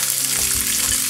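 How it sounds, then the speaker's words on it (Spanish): Onion sweating with a pinch of salt in a pan, a loud, close, continuous frying sizzle with a brief low knock, no talking. "empiezo el primer paso con la cebolla. Le pongo un poquitín de sal para que sude"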